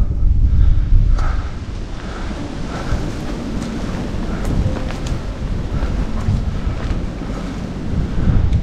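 Strong wind buffets the microphone in a loud, continuous low roar that gusts slightly throughout, with no voices.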